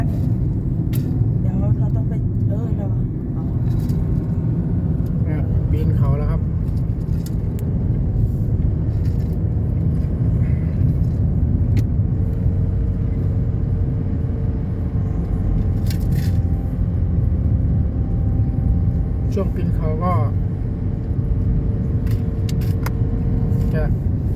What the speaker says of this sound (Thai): ยินเสียงเครื่องรถหน่อยครับเพราะมันต้องใช้แรง